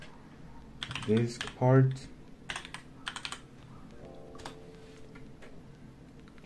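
Quick keystrokes on a laptop or PC keyboard as a command is typed, clustered clicks in short runs, close and clear, with someone speaking over part of it.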